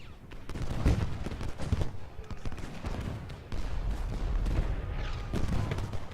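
Massed musket and artillery fire from troops in the Civil War battle game Ultimate General: Gettysburg, continuous rolling volleys and booming shots, dense and loud throughout.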